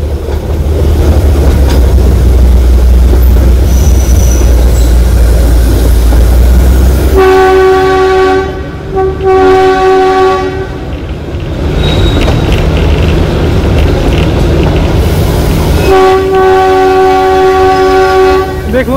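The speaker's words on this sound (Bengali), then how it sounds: "দেখুন কি সুন্দর টার্ন নিচ্ছে ট্রেনটি।" A Himalayan mountain railway train runs loud and close as it turns and climbs, wheels rumbling steadily while its horn sounds two long, tonal blasts separated by a few seconds.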